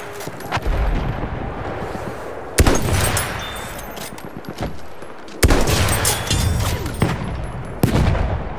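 Battlefield 1 machine gun fire: loud, dense, sustained gunfire with several sharper blasts striking through the steady roar of shots, close and continuous.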